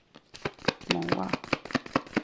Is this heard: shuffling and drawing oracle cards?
yes